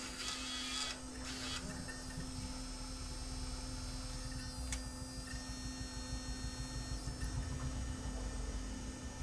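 Panasonic AG-DV2500 Mini DV deck with a jammed mechanism eating tape, a steady mechanical whir over a constant electrical hum, with a couple of faint clicks and no voices.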